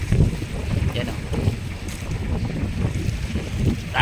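Big sea waves and strong monsoon wind buffet a fishing boat at sea off the Philippines, a continuous loud roar of wind noise and churning water with no clear breaks.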